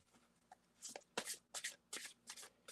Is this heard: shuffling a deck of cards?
yes